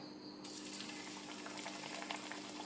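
A soft bubbling sizzle starts abruptly and continues steadily as pieces of a crispy snack are dropped into hot oil to fry, quiet and close.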